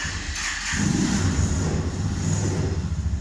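A Kuba Kargo 180 cabin cargo motorcycle with a 150cc engine starts and settles into a steady, close idle, its low rumble holding evenly for a few seconds with no talk.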